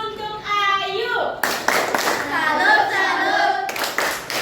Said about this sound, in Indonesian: Oke, tepuk salut untuk Ayu.